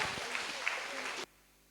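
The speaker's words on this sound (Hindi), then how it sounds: "मैं ये जरूर चाहूँगी कि सभी कलाकारों का आप सब ताली बजाकर अभिनंदन और स्वागत करें।" An audience applauds to welcome dance-drama performers at a cultural evening, a dense wash of clapping that stops abruptly after about a second.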